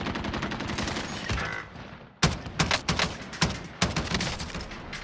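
Rapid bursts of automatic gunfire in Call of Duty: Modern Warfare, a steady stream of shots fading briefly before several sharp, loud volleys crack in quick succession.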